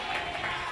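A congregation at an all-night prayer service claps loudly and steadily, a dense wash of applause filling the room without any clear speech.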